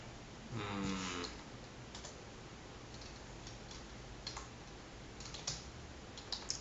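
Someone types on a laptop keyboard, opening with a quick flurry of key clicks and then moving to sparse, irregular single taps over a faint steady background hiss, with no talking.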